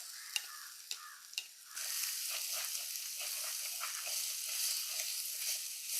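Brinjal and chopped tomato sauté in a pan, a steady bright sizzle rising after a few sharp taps at the start and continuing evenly, close and moderately loud.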